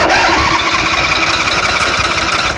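A choked engine on a cold start in winter, running loud and steady for the whole stretch with a dense, rough mechanical roar and no pauses or voices.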